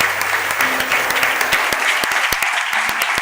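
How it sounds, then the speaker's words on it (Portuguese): A church congregation at a Tuesday service claps loudly and close, with sharp individual claps over a dense crowd wash and a faint sustained tone underneath. "Põe força na tua mão, aplaude e glorifique o nome do Senhor."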